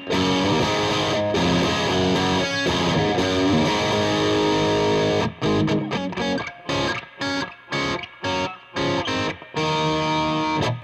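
Electric guitar through an MXR EVH 5150 Overdrive pedal with its boost engaged plays thick, compressed high-gain chords, first sustained and ringing, then tight staccato stabs with clean silences from the noise gate between hits.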